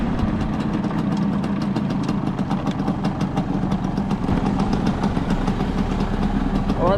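A little Yamaha 100 motorcycle engine runs steadily at a constant rumbling drone on a wild, windy ride in Donegal, loud and continuous throughout.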